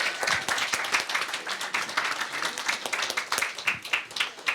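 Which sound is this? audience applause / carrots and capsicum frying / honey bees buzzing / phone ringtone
audience applause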